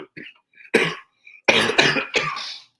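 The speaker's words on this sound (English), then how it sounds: "I got a little cough" A man coughs several times in short, harsh bursts, close and fairly loud, with brief pauses between the coughs.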